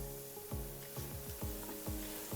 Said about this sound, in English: All right, give those a good stir.